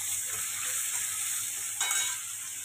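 Chopped tomatoes fry in a pan with a constant bright hiss, broken by a brief burst of louder sizzling and scraping as they are stirred, close up and without speech.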